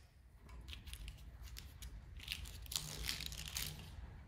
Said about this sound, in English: I'm going to cut the zip tie.